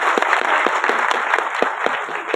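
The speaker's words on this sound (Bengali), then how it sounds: "কেয়াদির জন্য একটা জোরে হাততালি হয়ে যায়" A crowd at a Bangladeshi political rally applauds a woman leader, loud dense clapping with distinct sharp individual claps close by, sustained throughout.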